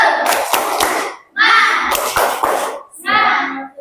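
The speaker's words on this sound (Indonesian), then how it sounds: "ayo kita tepuk semangat seperti biasanya, ya" Schoolchildren in an Indonesian classroom perform the tepuk semangat clapping routine: loud, close bursts of rhythmic hand claps and thumps mixed with the voices of children and a teacher calling and chanting together.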